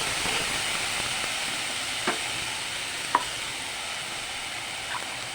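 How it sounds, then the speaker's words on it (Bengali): A spice paste of ginger, green chili, vinegar and cumin powder fries in a pan, giving a steady, close hiss with a few faint clicks of a stirring spoon. "একসাথে ভিনেগার জিরে গুঁড়ো দিয়ে মশলাটা কষিয়ে নেব"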